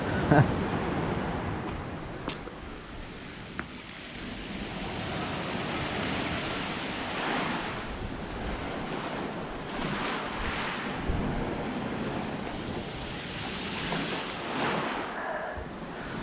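Sea surf rolling onto a snowy winter beach at Sudak in Crimea, a steady broad wash of waves with wind buffeting the microphone throughout, no voices.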